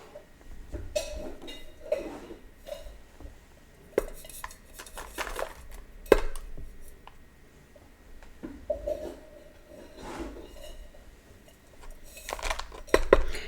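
A spoon scoops potting soil for seed starting, giving repeated soft scrapes and gritty digging with occasional light clinks against a container. The sounds are close and come in uneven bursts across the whole stretch.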